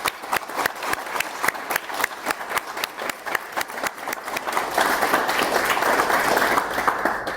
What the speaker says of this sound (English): big round of applause to the team and big round of applause to their advisors as well